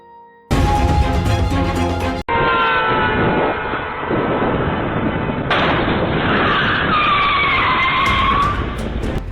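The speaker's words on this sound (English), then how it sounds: "The driver of the white car stopped suddenly to avoid colliding with pedestrians who were crossing the road" A white car's tires screech loudly as it skids to a sudden stop on a road, with a sharp impact partway through, then sustained engine roar and squealing under continuous road noise.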